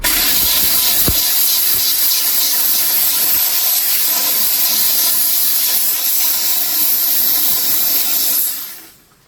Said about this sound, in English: it needs to be scraped at the same time as steam